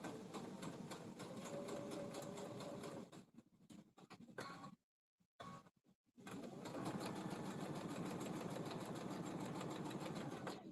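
A sewing machine stitches an X to reinforce the handle of a quilted project bag. It runs steadily at close range, stops briefly in the middle for a short pause with a few soft clicks, then runs again just as steadily.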